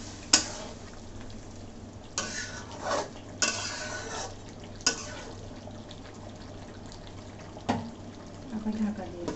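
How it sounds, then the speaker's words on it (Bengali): Beef braising over low heat in a pot, with a soft simmering hiss broken by repeated scraping and clanking stirs of a utensil against the pot, close by. "এবার যতটা পারা যায় আস্তে জাল দিয়ে মাংসটা কষিয়ে নিব।"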